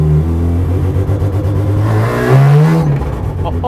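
A car with a Mazda S13B rotary engine revs hard nearby, a loud, buzzing, continuous engine note that climbs in pitch and peaks before easing off, alone without talk.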